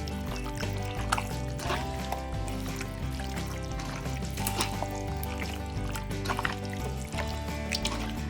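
Hand mixing batter into raw chicken pieces for an Indian-style barbecue marinade, giving continuous wet squelching and dripping sounds at close range over steady background music.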